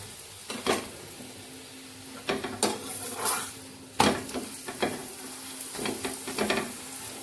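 Lachha paratha frying in a pan with a steady sizzle, broken by repeated scraping and clinks of a spatula or utensil against the pan, close up with no talking.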